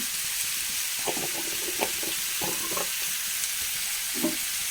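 Mango curry with turmeric and chili powder stirred in a pan, a steady hiss of sizzling under short scraping strokes of the spoon, close and continuous without any voice.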